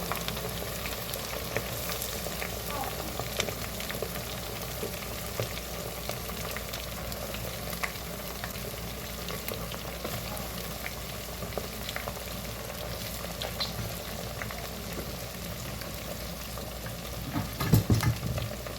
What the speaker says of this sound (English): We're going to fry these till they're golden brown.